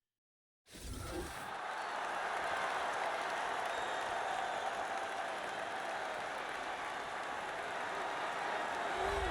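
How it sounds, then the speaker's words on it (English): Steady, distant roar of a large arena crowd cheering and applauding as a heavyweight fighter makes his walkout in the video game UFC 3, starting abruptly after a short silence and holding constant throughout. "what a pop from the crowd as this guy makes the walk"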